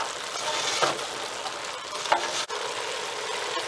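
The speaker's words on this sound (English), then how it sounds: "So the onions and garlic have softened nicely. We give it a couple of stirs" Chopped onions and a whole head of garlic, softened in a pot for Texas chili, sizzle steadily while a spoon gives a couple of scraping stirs, close and continuous with no talk.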